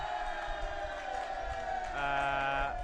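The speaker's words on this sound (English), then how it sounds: "But you can hear the home crowd" A home crowd at a seniors football grand final between the Tamworth Swans and New England Nomads cheers as a faint, distant, steady roar, with shouts rising slightly toward the end.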